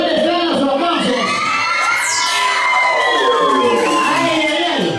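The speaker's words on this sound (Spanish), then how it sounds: "¿Dónde están los aplausos?" At a folklore dance ceremony, a close, loud crowd cheers, whoops and shouts with excitement throughout, with high children's voices and occasional whistles rising above the din.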